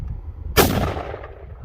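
A single loud, close gunshot from a bullpup Mosin rifle in a CBRPS stock fitted with a muzzle brake, a sharp blast followed by a long decaying outdoor echo, with no talking.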